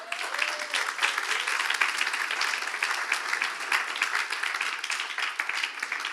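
Audience applause at a talk about the apostle Saint Andrew, a dense, steady wash of many hands clapping that carries on evenly for the whole stretch, with no voices above it.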